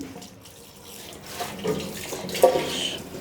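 Water splashing and running over a tyre as it is washed, a steady close wash that grows louder toward the end.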